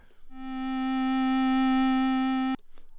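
A synthesizer in Reason 12's Europa sustains a single steady basic sine wave tone for about two seconds, then cuts off abruptly.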